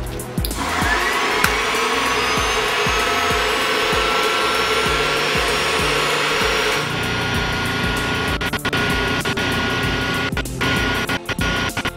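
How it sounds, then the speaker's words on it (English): Electric motor in a car EV conversion spun up on two batteries in series at 48 volts, a continuous loud whirring drone with rattling mechanical noise, the tone shifting partway through and ending in choppy clattering bursts. "I'm going to connect a couple of batteries in series with 48 volts and spin the motor and see what it shows"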